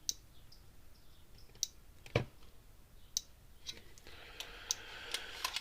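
A Gallagher electric fence energizer module on a repair bench gives sharp, evenly spaced clicks, faint and close, with no talk.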